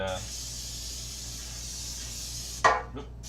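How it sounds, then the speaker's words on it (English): Baking spray hissing from a can into a pan: a steady, fairly faint spray hiss for about two and a half seconds, ending with a sharp clatter. "Baking spray."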